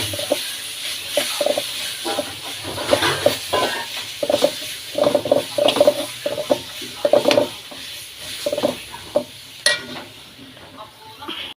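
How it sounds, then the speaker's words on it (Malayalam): Tomatoes go into a frying masala base for chicken curry, giving a close, hissing sizzle broken by repeated rhythmic scraping strokes of a spoon stirring the pan. "നമുക്ക് ഇനി തക്കാളി ഒഴിച്ചു കൊടുക്കാം"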